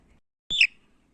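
A single young chick gives one short, high chirp, close and clear against near silence.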